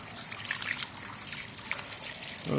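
Water trickles steadily from a tap while corms of an ornamental caladium are rinsed clean, a continuous close dribble and splash with no talking.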